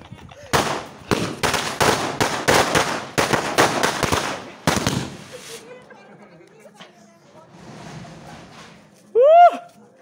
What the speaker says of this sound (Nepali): मैले पटका पड्काएको देखेर